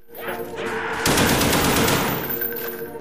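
Sustained automatic fire from an RPK machine gun in the video game Black Ops Zombies, a loud continuous burst that swells after a second and runs for about a second before easing off, with no talk over it.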